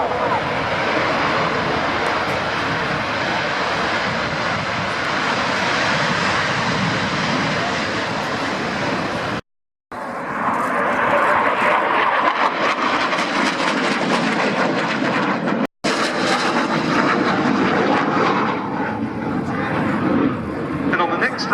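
Military aircraft fly past at the Royal Navy international air day at RNAS Yeovilton, a loud sustained engine roar that swells and shifts in tone, broken by two brief cuts, with a commentator talking over it.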